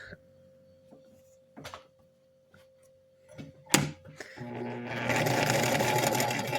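A vintage sewing machine runs in a steady mechanical whir, starting after a few faint clicks and bumps and then sewing continuously at close range.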